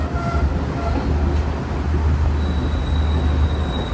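A Galu Kumari Express train pulls into Dehiwala station on Sri Lanka's coastal line, with a steady loud rumble of rolling carriages and a thin high wheel squeal rising partway through.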